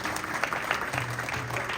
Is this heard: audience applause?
yes